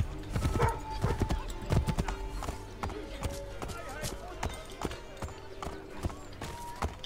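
Horse gallops in Assassin's Creed III, with rapid rhythmic hoof clip-clops close by, a brief whinny, and game music and a voice talking over the hoofbeats.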